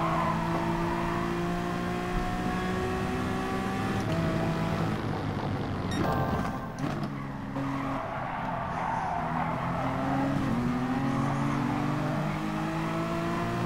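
A Honda NSX Gr.3 race car in GT Sport at Barcelona accelerates hard, its engine note climbing in steady loud harmonic sweeps, with tire squeal and other cars' engines layered in the near background throughout.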